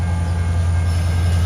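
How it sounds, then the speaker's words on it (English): A Louisville Gas and Electric locomotive hauls a loaded coal train off the Warrior Coal Mine lead at West Yards in Madisonville, Kentucky, giving a loud, steady, close diesel drone with a continuous deep rumble and faint high-pitched wheel hiss. "This is the Louisville Gas and Electric coal train, and it's pulling off the Warrior Coal Mine lead"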